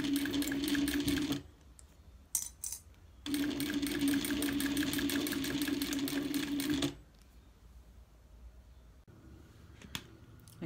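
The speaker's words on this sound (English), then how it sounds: "I top stitch down the right side of the vinyl" A sewing machine runs in two steady bursts as it topstitches vinyl on a bag, a loud rapid needle rattle close up, then a pause and quieter handling noises at the end.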